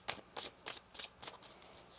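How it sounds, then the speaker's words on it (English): Quick riffling tarot card shuffles, about six short crisp bursts in a steady rhythm, close and clear with no talking. "One more shuffle."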